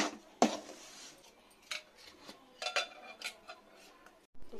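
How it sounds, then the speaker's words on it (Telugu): A spoon stirs a poha and peanut laddu mixture with ghee in a bowl, giving soft, irregular scrapes and light clinks that come and go close by, with no voices. "స్లోగా ఇలా కలుపుకుందాం"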